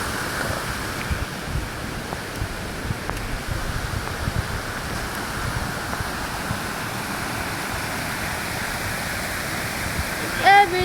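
Steady broadband roar of a waterfall at the falls, loud and continuous throughout, with rain and faint voices and wind buffeting mixed in.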